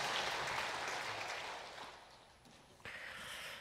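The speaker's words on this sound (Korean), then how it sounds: "하나님 앞에 영광의 박수 올려드립니다." Church congregation applause during a Sunday worship service, broad clapping that starts full and gradually thins, then swells briefly again near the end, heard without speech.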